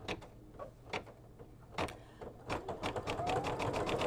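A sewing machine running a satin stitch, close mechanical whirring in short bursts that stop and start, then settle into a steadier run.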